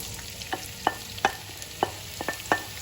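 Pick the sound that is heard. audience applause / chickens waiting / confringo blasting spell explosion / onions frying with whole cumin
onions frying with whole cumin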